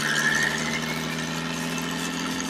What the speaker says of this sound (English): The turbo is so goddamn loud.